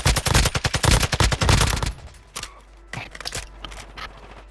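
Automatic gunfire in a video game cracks loudly in quick rapid bursts, then a few scattered single shots fade out under quieter background noise.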